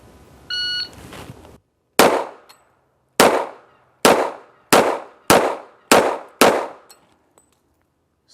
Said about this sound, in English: Six shots